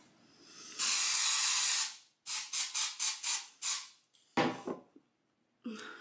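Dry shampoo hisses from an aerosol can into hair: one long, loud spray, then a quick series of short bursts and a few final puffs, close up, with no talking.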